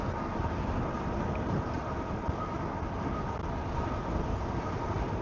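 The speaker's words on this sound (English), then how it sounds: "it's really windy over here" Strong wind buffeting a microphone outdoors by a bay, a loud, constant low rumble and roar that persists through the whole clip without letup.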